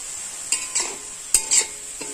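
Khesari greens with salt and turmeric stirred in a pan, four or five quick scraping strokes and clinks over a thin steady sizzle, close and fairly loud.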